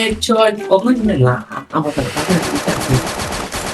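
Rapid gunfire in a mobile battle royale match, a dense rattling burst that follows a stretch of excited talk and continues under speech.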